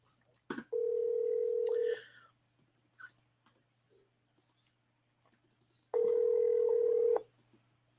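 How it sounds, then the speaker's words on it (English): A ringback tone sounds on an outgoing telephone call, two long steady tones separated by a pause, with scattered clicks and light tapping in between. "Let's see if they pick up the phone."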